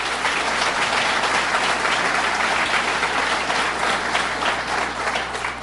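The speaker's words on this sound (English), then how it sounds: "Let's give her a round of applause." Audience applause fills a room at a governor's budget tour event in Syracuse, steady dense clapping held at a loud, even level throughout with no speech over it.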